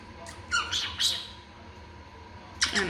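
A pet bird gives several shrill, close squawks, a quick cluster early on and another sharp burst near the end, over a quiet indoor background with no talking.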